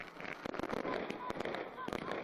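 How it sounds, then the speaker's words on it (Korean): Fireworks burst over a New Year celebration in front of a students' and children's palace in North Korea, a dense run of sharp pops and crackles filling the air, with a broadcast voice speaking over them. "배움의 천리길 학생소년 궁전 앞에서는 불꽃놀이가 진행됐습니다."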